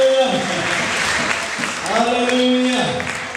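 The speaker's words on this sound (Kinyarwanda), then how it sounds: "Reka tubahe amashyi menshi cyane." A church congregation at a wedding ceremony applauds in a steady wash of clapping while a voice speaks and calls out over it.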